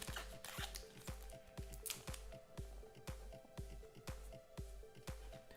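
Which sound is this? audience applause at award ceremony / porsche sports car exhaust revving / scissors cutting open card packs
scissors cutting open card packs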